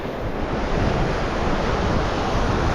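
Strong ocean surf on a coast in Cagayan, Philippines, crashing in a continuous loud roar with heavy wind buffeting the microphone, no voices.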